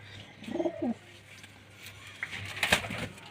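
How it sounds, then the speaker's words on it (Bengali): Pigeons at a home loft coo softly in a short burst, followed by faint chirps and rustling, while a person talks in the background. "বাবা মায়ের বাড়ির এই পায়রাগুলো দেখুন"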